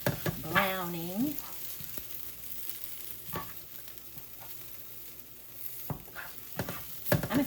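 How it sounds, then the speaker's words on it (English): Grains of rice sizzle and fry in a pan while being stirred to brown and crisp for a cooked broccoli and mint salad, a steady close crackle with scraping stir strokes and brief voice sounds at the start and end. "I feel like I need to fry them up just a little bit to give them a little brownness"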